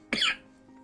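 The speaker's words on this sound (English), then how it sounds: "It could be a cough." A single short, sharp human cough bursts out close to the microphone and fades quickly into quiet background hum.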